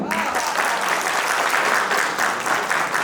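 Audience applause at an Envalior corporate event: a dense, steady wall of many hands clapping, loud and unbroken for the whole stretch.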